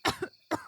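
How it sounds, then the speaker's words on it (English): Two short, harsh coughs sound close up with a brief gap between them, like someone choking, with no speech. "she coughed blood"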